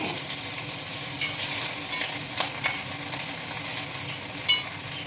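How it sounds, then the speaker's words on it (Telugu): Ingredients for chutney frying in a pan: a steady, close sizzle with soft crackles and a few sharp pops as the food is stirred, with no talking. "మంచిగా వేయించుందండి ఇక్కడే వేగిద్దాం"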